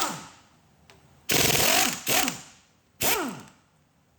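A 1/2-inch impact gun hammers at cylinder head bolts on a 327 engine in three loud, rattling bursts, each under a second long, separated by quieter shop sounds.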